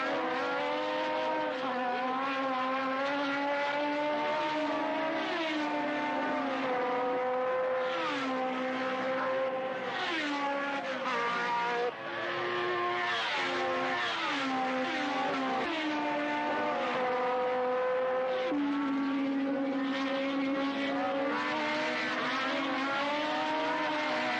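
1973 Formula 1 race cars scream around Monza at the Italian Grand Prix, a continuous high, harmonic engine wail that rises and falls in pitch as cars shift and pass, loud and sustained.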